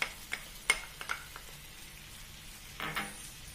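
Sauce of tamarind water, sugar, oyster sauce and fish sauce stirred in a pan, giving a few soft scrapes and a light sizzle, close and quiet, with no talking.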